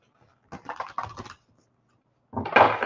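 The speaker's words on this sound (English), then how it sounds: "I'm going to shuffle for you number 1 right now." Tarot cards shuffled by hand for a psychic reading on a live show, heard as two separate bursts of crisp papery riffling close by, with a pause between them and no talk.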